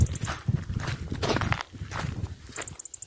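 Footsteps crunch along a hiking trail in a steady walking rhythm, close and fairly loud, with faint high bird chirps appearing near the end.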